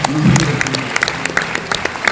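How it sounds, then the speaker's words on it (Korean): Brief burst of crowd applause at a gathering, loud and close, scattered claps with a voice rising at the start before the clapping thins out. "큰 박수 한번"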